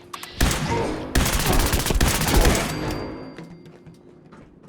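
Rapid bursts of laser sniper rifle fire in a shooter video game, loud and close, with several quick volleys in a row that then fade into a quieter tail.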